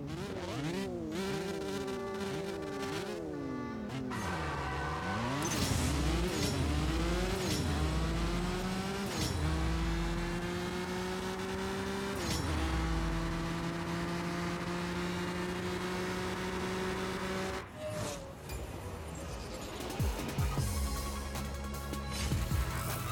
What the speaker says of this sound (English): For the third race in the 599 GTO.